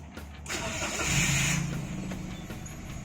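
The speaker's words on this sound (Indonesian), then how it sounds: "Ini saya nyalakan mesinnya" A car engine cranks and catches, rising into a close, steady idle hum that stays loud for the rest of the moment.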